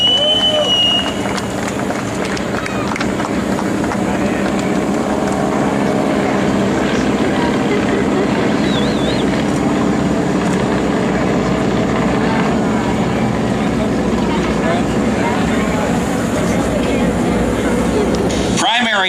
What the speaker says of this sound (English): These are the Stearman biplanes.